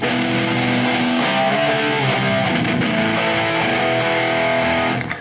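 An electric guitar with crunchy amp tone from a Quad Cortex preset plays a continuous riff of picked notes and chords, loud and close, with no talking.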